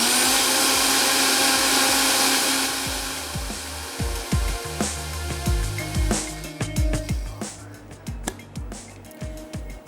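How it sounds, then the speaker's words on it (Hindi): An electric blender whirs loudly and steadily while making a sherbet of fresh flowers, fruits and herbs, then winds down into clattering and knocking of kitchen utensils. "हम कर लेते हैं ब्लेंड।"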